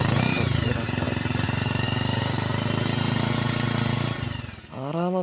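A used Bajaj Pulsar 150 motorcycle engine runs with a loud, steady, buzzing throb close by for several seconds, then dips and is blipped into a quick rising rev at the end.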